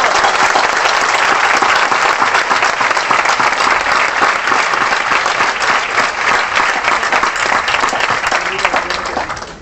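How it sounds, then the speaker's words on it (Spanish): Loud, sustained audience applause at a university event at UAM Xochimilco, a dense continuous roar of many hands clapping that holds steady for several seconds before starting to taper at the end. "pero también le damos un aplauso."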